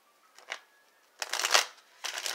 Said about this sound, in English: I'm going to shuffle it real quick